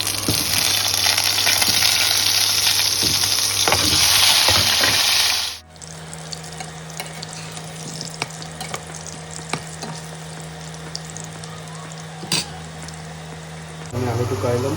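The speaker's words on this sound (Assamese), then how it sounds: "তাৰপিছত মাংসটো ফ্ৰাই কৰিম" Goat mutton frying in a pan for Assamese curry, a loud dense sizzle at first that drops to a quieter steady crackle with occasional stirring clinks.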